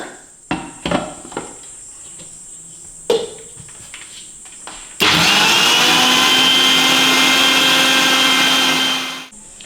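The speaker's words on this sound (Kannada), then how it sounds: "ಮತ್ತೆ ಇದಕ್ಕೆ ಒಂದು ಗ್ಲಾಸ್ನಷ್ಟು ನೀರನ್ನ ಹಾಕಿ ಇನ್ನೊಂದ್ಸಲ ರುಬ್ಕೊಳ್ಳೋಣ" A mixer grinder jar grinds sprouted ragi with a glass of water. A few sharp taps and clinks come first, then the motor kicks in with a loud, steady whirring roar for about four seconds before cutting off.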